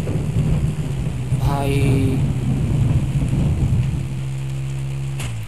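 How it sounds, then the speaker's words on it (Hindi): Continuous rain with a low thunder rumble underneath in a mobile bike racing game, loud and steady, while someone talks over it and a motorbike engine hums. "इतना बारिश हो रहा है भाई"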